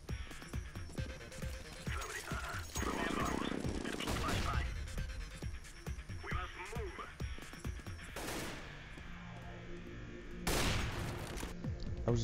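Rapid gunfire in Counter-Strike: Global Offensive on the Nuke map. Repeated bursts of shots and bangs run throughout, with a few louder blasts, and someone talks over the action.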